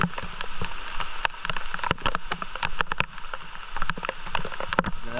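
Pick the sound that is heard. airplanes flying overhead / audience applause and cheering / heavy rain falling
heavy rain falling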